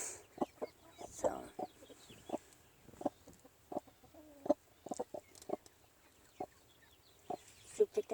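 Brooding Cochin hens on their nest giving soft, low clucks and murmurs in scattered short bursts with an occasional longer churring call, close but quiet against a hushed background.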